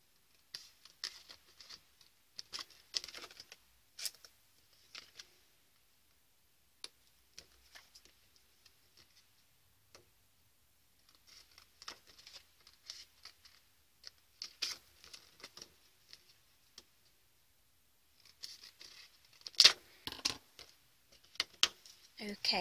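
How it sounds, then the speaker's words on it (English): Scissors snip corner squares off a sheet of acetate while making a faux acetate treat box, giving sparse, quiet ticking cuts in scattered clusters that grow sharper and denser toward the end. "Just cutting the corner squares off."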